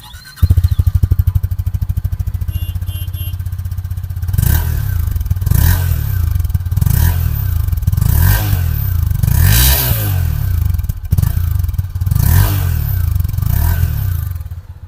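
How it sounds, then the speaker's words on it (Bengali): A 2024 Honda CB 300F 300cc motorcycle starts and idles with a loud, close, even exhaust thump, then is revved repeatedly in rising and falling blips before settling back to idle. "চলো এবার এক্সস্ট সাউন্ডটা শোনো"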